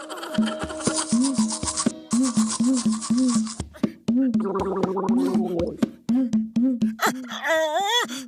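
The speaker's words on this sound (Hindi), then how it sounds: "चलो ब्रश करो।" Cartoon teeth brushing: quick, scratchy back-and-forth bristle strokes repeat rhythmically under a voice and music, ending with a gargling, bubbly flourish.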